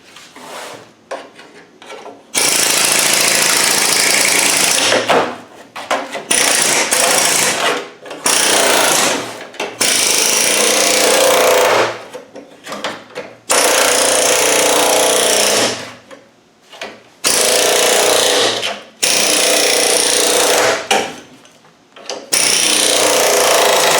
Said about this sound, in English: Straight chisel bit, an old one.